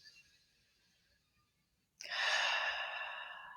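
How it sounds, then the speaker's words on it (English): A single deep breath during a meditation exercise, drawn in or let out as a loud, airy rush. It follows about two seconds of near silence and holds steady before fading slightly. "close your eyes and breathe deeply and evenly"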